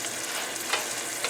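Mussels cook in a hot pan with a soft, continuous sizzle and a couple of small clinks, heard close and alone.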